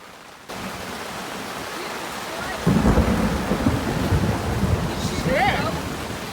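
Heavy rain pours steadily at a campsite while a deep roll of thunder rumbles in partway through, with a voice briefly audible near the end.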